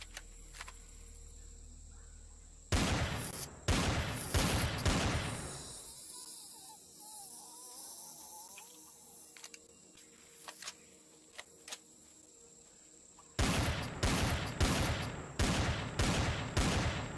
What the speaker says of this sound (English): The T2 shotgun just minces.